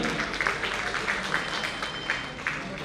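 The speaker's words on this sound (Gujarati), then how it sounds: "જોરદાર તાળીઓથી આ પાંચેયને આપણે એક વખત વધાવી લઈએ" An audience claps for five music teachers being honored at a ceremony, producing a short burst of steady, moderately loud applause with a faint voice mixed in.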